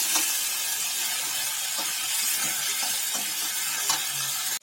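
Brinjal sautés in a hot pan for a spicy fry, giving a steady loud sizzle and hiss with occasional soft scrapes of the stirring spoon, and no talking.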